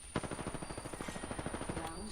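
Rapid automatic gunfire in the online game New World, a steady burst of evenly spaced shots running for about two seconds, loud and close, with a faint voice under it near the end.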